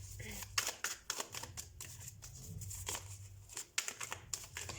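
Tarot cards being shuffled and drawn by hand, giving a run of crisp papery riffles and slaps in uneven bursts, with a low voice or hum underneath.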